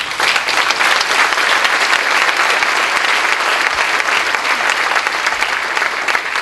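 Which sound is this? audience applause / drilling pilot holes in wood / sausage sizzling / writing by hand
audience applause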